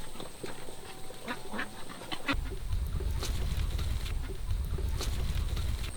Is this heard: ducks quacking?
yes